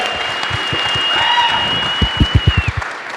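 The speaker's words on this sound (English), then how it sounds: "Huge round of applause for Linode." A live show audience applauds the sponsor Linode. The clapping comes with a sustained whistle and builds into a burst of loud, rhythmic claps near the end.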